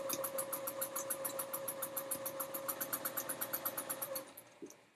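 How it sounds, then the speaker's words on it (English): A sewing machine chain piecing a quilt block, its needle thumping in a fast, steady rhythm over a constant motor whine, close and clear, then slowing and stopping near the end. "this is just sewing straight through. Regular old chain piecing here."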